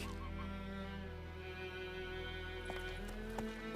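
Horse hooves clip-clopping in a steady rhythm as Roach travels in The Witcher 3: Wild Hunt, heard close and continuous over a sustained tonal music bed, with a couple of sharper knocks near the end.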